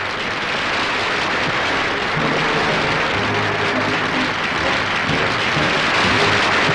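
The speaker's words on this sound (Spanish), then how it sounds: "resuenan continuamente los vítores y aplausos del vecindario" A street crowd lining the Rambla in Catalonia cheers and applauds steadily as Franco and his entourage pass, a broad, sustained wash of clapping and voices with no break.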